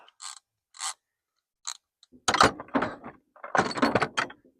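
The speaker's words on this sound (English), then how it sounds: "This is probably my favorite ratchet I've ever owned. It's this Husky 3/8 drive." A Husky 3/8-inch drive ratchet clicks in a few short, quiet bursts, then in longer, louder runs of rapid close-up ratcheting.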